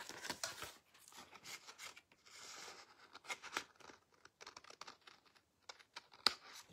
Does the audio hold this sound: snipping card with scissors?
yes